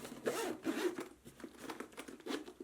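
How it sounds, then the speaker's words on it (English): A zipper runs around a Nintendo Switch 2 Game Traveler Deluxe System Case packed with the console, dock, AC adapter and HDMI cable, giving several quick close ratcheting pulls in short bursts. "Zip it up."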